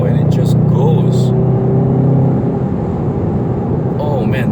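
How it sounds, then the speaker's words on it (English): A Volkswagen Golf GTI 2.0 in sport mode pulls hard under full throttle, its engine note droning steadily and rising from inside the cabin, with a voice talking over it. "If I were to put it into sport right now, immediately the revs have climbed to 3000, and then I put my foot down."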